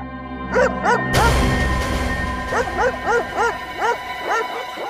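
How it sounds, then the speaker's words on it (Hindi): Several dogs bark repeatedly from somewhere behind, a loud, rhythmic volley of yips and bow-wows heard against a steady background hum with no speech. "कुत्तों के भौंकने की आवाज पीछे की तरफ से आ रही है"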